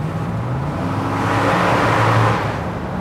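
A 2009 Ford F-150 pickup with a 5.4 V8 driving under a small bridge: a steady interior road and engine drone that swells slightly mid-way, continuous and moderately loud with no talk.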